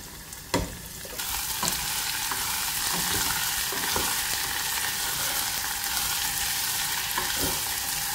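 Onion and chili frying in a hot pan: a steady close sizzle after a sharp clatter as the ingredients drop in, with a few light stirring knocks and no talking.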